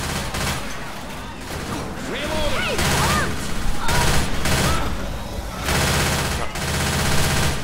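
Rapid, continuous gunfire rattles through a Left 4 Dead 2 match, loud and near, in dense bursts broken by brief gaps, with voices talking over the shooting.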